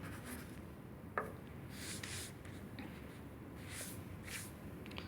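A compass swings an arc across a sheet of paper while a geometry figure is drawn. Faint, quiet scratching comes in a few short strokes, with a small tap near the start and nothing else in the room.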